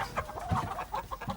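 Chickens bred in a cloning and chimera research setting cluck in a steady run of short, close calls, with no talking over them.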